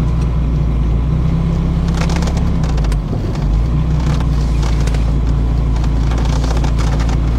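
Low, steady engine rumble from a Ferrari 308 GTSi moving slowly in reverse, close and loud with a brief dip and shift in tone partway through, plus some wind buffeting and light rattling.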